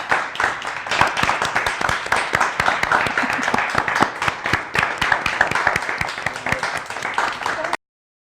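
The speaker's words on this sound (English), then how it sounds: "let's all give her a nice round of applause" Studio audience applause on a talk show: steady, dense clapping from a crowd that keeps an even level, then cuts off abruptly near the end, with voices mixed in.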